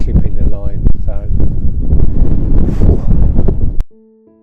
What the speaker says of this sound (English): it really was brutal with that wind